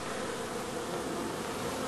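A swarm of honey bees flying around close by makes a dense, continuous buzzing hum, steady and fairly faint with no talking.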